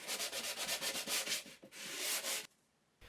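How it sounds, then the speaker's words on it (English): Rapid rhythmic rasping of sandpaper rubbed by hand back and forth on the back of a wooden picture frame, close and steady, then a longer stroke before it stops abruptly. "And finish off with a bit of sanding on the back."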